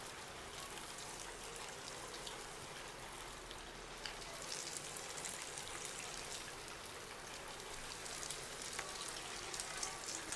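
Small spoonfuls of Nellore bonda (punugulu) batter frying in hot oil, a steady soft crackle and sizzle close by that builds slightly and runs without talk.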